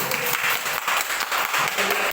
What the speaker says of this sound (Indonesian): tepuk tangan dulu untuk Rohani.